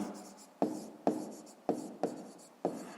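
Pen strokes scratch across paper while a fifth-grade math answer is written down, five or six quick, close, soft bursts in an even rhythm, each fading quickly, with no voices.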